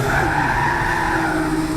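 A GT300-class race car in a racing video game drifts through a corner. Its tires hold a loud, continuous squeal for the whole moment over a steady engine drone.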